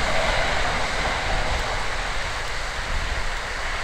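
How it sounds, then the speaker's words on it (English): A train passing by, a loud, dense, continuous broadband rumble and roar that fills the whole stretch without letting up. "there goes the train."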